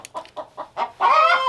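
A hen clucks while one of her wings is clipped: four short, evenly spaced clucks, then a longer, louder squawking call, close up and with no talk.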